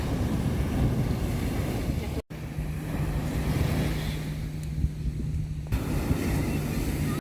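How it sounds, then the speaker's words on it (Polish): Ocean waves roll and break at Malibu beach under heavy wind buffeting the microphone, a continuous loud wash of surf with a brief dropout and a low steady hum partway through. "Właśnie tego typu fale były."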